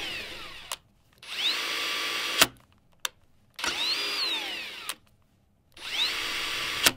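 A cordless battery torque wrench runs in three separate bursts, each a steady whine with rising and falling motor pitch that cuts off sharply between bursts. It is used for setting mechanical anchors, is heard close up, and no one speaks.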